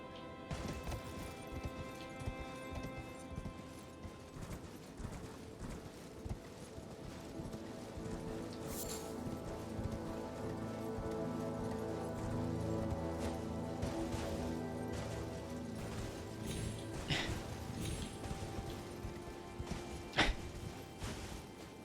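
Hooves of the spectral steed Torrent galloping across terrain in Elden Ring, a rapid rhythmic clip-clop running almost continuously, with game music tones and occasional thuds mixed in, moderately close.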